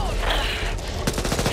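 Video game gunfire breaks out in a quick, close burst of rapid shots after a stretch of dense, noisy action sounds, with a voice briefly audible in the mix.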